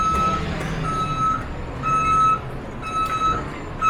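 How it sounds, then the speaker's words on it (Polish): Reversing alarm from a truck on a film set, with repeated short high beeps in irregular bursts over a steady background rumble of engines and ambient noise. "Wszystko zawsze wydaje dźwięki, nawet ciężarówki, nie?"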